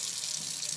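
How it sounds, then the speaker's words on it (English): A bathroom sink tap runs steadily for a moment during hand washing, a continuous close hiss of flowing water with no voices. "you can get your water turned on"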